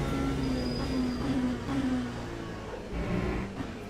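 A race car engine in the Le Mans Ultimate game drones with a buzzing, angry-bee tone, holding a steady whine with slight pitch shifts.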